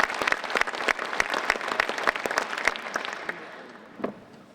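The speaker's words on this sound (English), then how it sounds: "let's give one last round of applause" Audience applause at a JROTC military ball, a dense burst of clapping from a crowd in a hall that thins out and fades over a few seconds.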